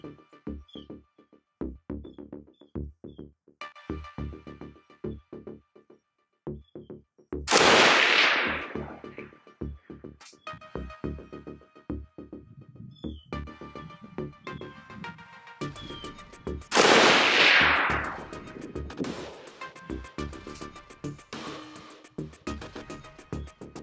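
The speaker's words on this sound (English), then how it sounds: "So take a few shots at the target and see if we can get any hits." Two loud, sharp gunshots from a Krebs Custom AK 103K-S rifle fired at a target 100 yards away, spaced roughly ten seconds apart, with quieter clicks and handling noise between them.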